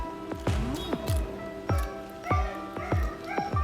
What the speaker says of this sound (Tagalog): Shout out sa aso namin maingay.